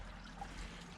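Water runs down an old stone tunnel at the Font das Alamandrias, dated 1828, making a faint, steady trickling rush with no voices.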